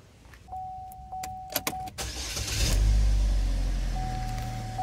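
A Chevy engine cranks and starts up after a few faint clicks, then settles into a steady idle that carries close and loud to the end, with a thin whine above it.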